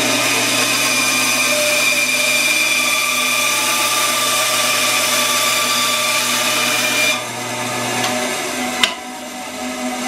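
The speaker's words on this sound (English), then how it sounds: "So I just take mine and put it on a bandsaw" A bandsaw slices through deer antler with a steady, loud whining buzz that runs for about seven seconds, then the cut ends and the blade spins down, followed by a sharp click and a quieter hum.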